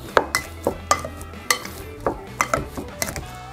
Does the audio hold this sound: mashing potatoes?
yes